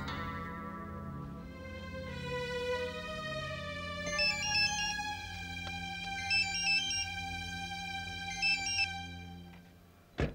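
Phone ringtone plays while someone calls Gaurav, a repeating synthetic melodic tune with bright chiming accents that loops several times over ten seconds, clear and moderately loud, with no one speaking, ending on a short click.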